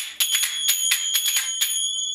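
Metal finger cymbals, or zills, ring in a quick, steady pattern of bright, shimmering strikes whose long ringing overtones overlap into a continuous sustained wash, close and loud, then fade out at the end.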